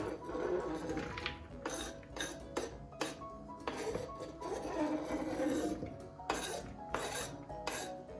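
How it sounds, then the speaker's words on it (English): Onions and garlic go into a pan while Königsberger Klopse are being made. Utensils clink and scrape against dishes in a string of light, sharp taps and clatters, close by and fairly quiet. "So now in go the onions and our garlic."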